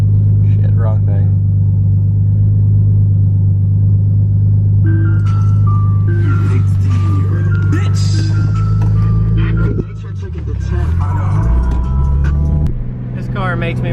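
A 1979 Ford F100 pickup with an LS V8 engine swap running, its deep rumbling idle steady and close, with revving swells and shifts in pitch midway, while voices talk over it.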